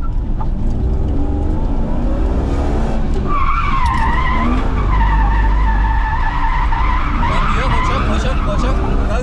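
A drift car accelerates hard with its tires skidding and squealing, a loud, continuous roar close by that never lets up, while people talk over it.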